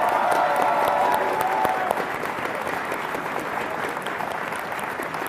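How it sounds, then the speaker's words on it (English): Applause from a tournament audience at a League of Legends grand finals esports event fills the space with a steady, dense wash of clapping that holds throughout, a faint voice briefly audible early on. "Let's give them another round of applause."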